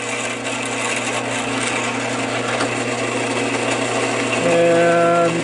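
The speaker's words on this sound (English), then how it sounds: "Drill the other hole," A drill bores a hole in a small wooden penguin ornament held against a stop clamp, a steady whirring hum that climbs to a louder, higher whine near the end.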